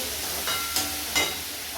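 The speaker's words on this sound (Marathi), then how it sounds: "कांदा परतले" Onion sautéing in a pan while making a sandwich, giving a steady low sizzle throughout with two brief louder bursts of hiss as the pieces are moved, no talk over it.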